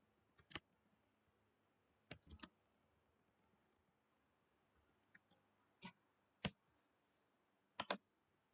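Sparse, irregular clicks of keys on a computer keyboard as a comment is typed, arriving in about six short bursts separated by pauses in a quiet room, with no talking.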